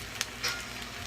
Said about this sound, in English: Now we continue to get that frying action going.